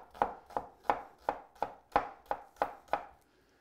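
A knife chops onion on a board in nine evenly spaced, sharp close thuds, a steady rhythm of roughly three strikes per second with no talking.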